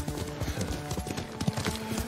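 Horse hooves while riding in the video game Ghost of Tsushima, a steady rhythmic clip-clop of a galloping mount, moderately faint and continuous throughout.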